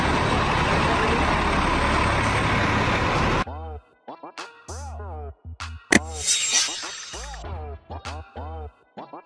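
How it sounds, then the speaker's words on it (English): A double-decker bus engine gives a loud, steady rumbling drone for about three seconds, then cuts off abruptly, and a voice talks in short phrases afterward. "Double-decker bus."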